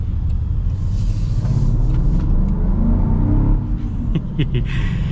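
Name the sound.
Land Rover Defender P500 supercharged V8 accelerating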